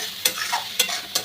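Mushrooms being stirred as they fry in mustard oil in a pan, with three sharp scraping strokes of the spoon at steady intervals over a soft constant sizzle.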